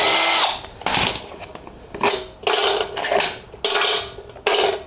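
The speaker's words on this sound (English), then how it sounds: "Now I'm going to use my impact with a 10 millimeter socket" Impact wrench with a 10 millimeter socket undoing air filter cover bolts on a small engine such as a lawn mower or generator, several loud close bursts of rapid hammering whir with brief pauses between them.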